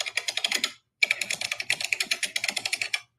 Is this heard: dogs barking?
no